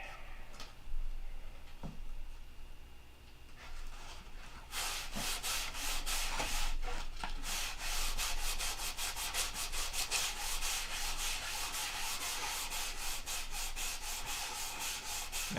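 Hand sanding of a wooden piece by open hand, starting with a few scattered scrapes and then settling into a steady, close, fast run of rough back-and-forth rasping strokes with no talk.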